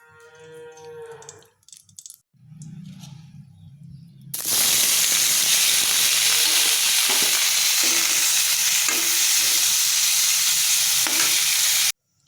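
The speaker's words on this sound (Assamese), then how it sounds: "এতিয়া এইখিনি ফ্ৰাই কৰি ল'ম" Long-cut paneer slices frying in a pan give off a loud, steady, dense sizzle that runs unbroken for about eight seconds, after a quieter opening with a brief low tonal sound and faint rustling.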